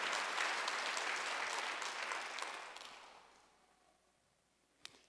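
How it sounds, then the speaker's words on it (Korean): A church congregation applauds during a Sunday worship service, a broad wash of clapping that holds steady, thins out and fades over a few seconds, with one sharp clap near the end. "박수 한번 하세요."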